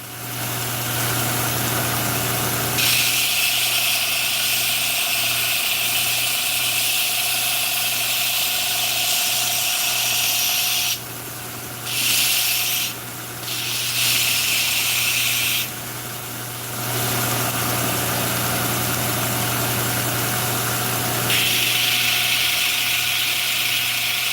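Bench grinder taking burrs off a steel blade during blade sharpening in a shop, a loud steady grinding whine with hiss that runs throughout, briefly dropping off twice in the middle before resuming.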